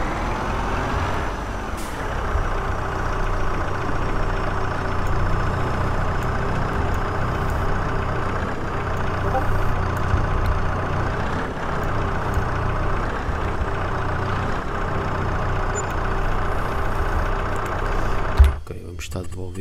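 A tractor engine idles in Farming Simulator 22, a steady low rumble held throughout with faint mechanical hiss, ending in a brief thump near the close.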